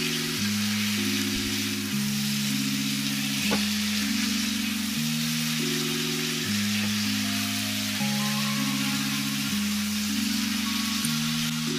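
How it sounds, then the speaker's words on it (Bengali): Chicken do pyaza spice masala sautéing in a pan without water, a steady soft sizzle and fry noise throughout with faint stirring, under a continuous low tonal hum. "মশলাটাকে একটু ভালো করে কষিয়ে নেব।"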